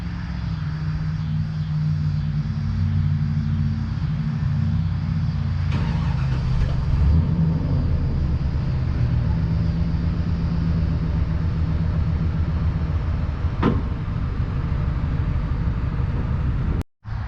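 A GMT-400 Chevy 454 big-block dually truck in four-low pulling an abandoned car out, its engine giving a steady loud rumbling drone throughout, ending abruptly.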